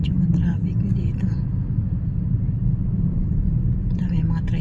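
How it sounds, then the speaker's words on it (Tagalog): Tricycles crowding the road by a market, their engines blending into a continuous low rumbling drone, with people talking close by over the traffic. "Dami mga tricycle."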